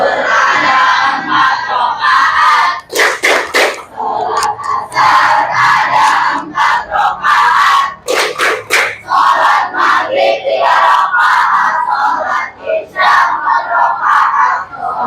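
Pupils in a classroom perform the 'tepuk sholat' clapping chant, loud group voices shouting in rhythm with sharp bursts of clapping throughout.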